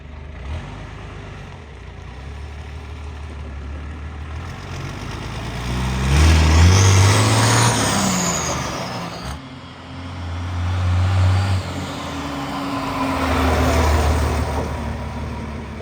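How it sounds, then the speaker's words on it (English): A 1989 Chevy truck engine on a test drive rumbles low and close from inside the cab, rising in two or three swells as it accelerates and easing off between them, with road noise underneath. "Taking her for a test drive."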